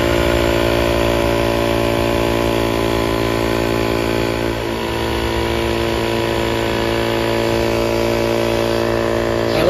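A TUSA A6 automatic tyre inflator runs continuously with a loud, steady motor drone and buzzing vibration, inflating a flat tyre without pause.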